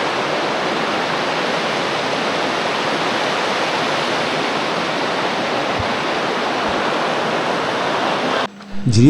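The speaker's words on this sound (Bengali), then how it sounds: "জুমঘরে যাওয়ার পথে এরকম বিশাল একটা ঝিড়ি পাড়ি দিতে হয়" A wide hill stream in the Matamuhuri reserve forest rushes steadily, a loud, dense, close roar of flowing water that holds unbroken for most of the time before a brief disturbance at the very end.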